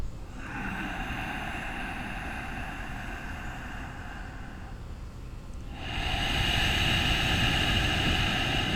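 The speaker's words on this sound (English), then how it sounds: "we just use the peaceful sound of our breath to accompany our practice" Slow, deep meditative breathing during yoga practice, a long airy breath followed by another stronger, louder one, close and sustained with no talk.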